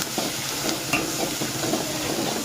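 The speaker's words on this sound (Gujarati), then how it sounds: "હવે સરસ મજાનો આપણે મિક્સ કરી લઈશું" Turmeric and garam masala stirred through a pan for Mehsana-style sev usal, a soft continuous scrape and light sizzle with a few spoon taps, steady and close, no voices.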